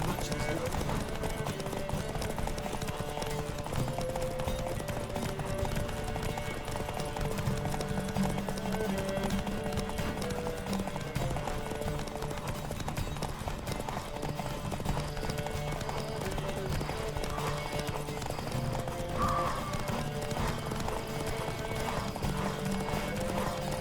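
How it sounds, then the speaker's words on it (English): Steady clip-clop of horse hooves galloping in The Witcher 3 game, with occasional whinnies over a continuous bed of music and voices throughout. "Don't spare the horse!"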